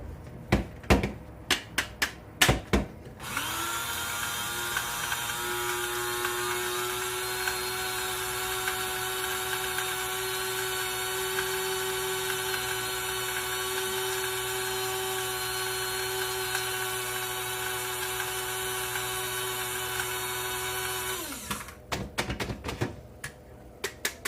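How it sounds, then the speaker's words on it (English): A Salton electric spice grinder whirs with a steady, even motor whine for about eighteen seconds. A few sharp clicks come just before it starts and after it stops. "This one is a Salton branded grinder."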